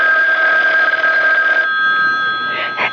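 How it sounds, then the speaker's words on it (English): Telephone ringing as a radio drama sound effect, a steady loud electric bell tone for about a second and a half, then a fainter, thinner ring continuing alone. "Oh, that's the phone, Parker."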